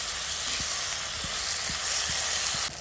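Tomatoes and chillies frying in a pan with a little salt, a steady loud sizzle and hiss with a few soft stirring knocks, close and continuous with no talk.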